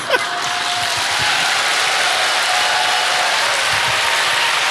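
Audience applause in a church lecture hall greeting a pastor's entrance: dense, steady clapping from a large crowd, sustained at even loudness throughout.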